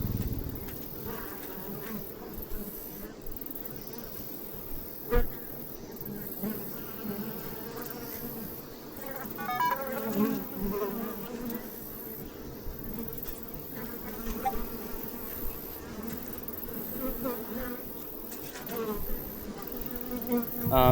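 A small honey bee colony buzzes around its hive in a home bee yard, a dense steady drone of many wings with individual bees passing close now and then, and no talk.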